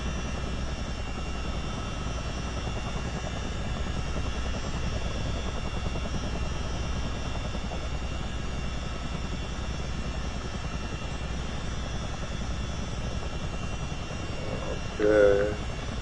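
A helicopter in Microsoft Flight Simulator 2024 drones steadily over offshore oil rigs, a continuous rotor and engine hum at even loudness, with a brief voice near the end.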